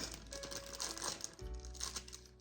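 Kitchen scissors snip during home cooking, making a short run of crisp, close mechanical clicks and rasps with no talking.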